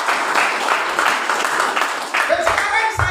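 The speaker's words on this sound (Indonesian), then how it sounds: "berikan tepuk tangan yang meriah buat Tuhan kita ini" Church congregation applauding during a Sunday service, a dense steady wash of clapping from many hands lasting the whole span, with some voices mixed in toward the end.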